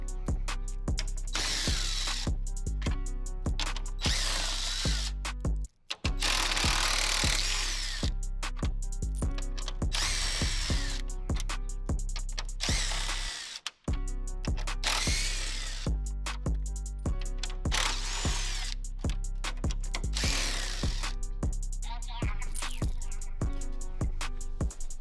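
A power tool removes 10mm bolts from the front end of a 2020 Ram pickup in rapid repeated bursts of whirring and ratcheting, loud and close, with two brief pauses between runs.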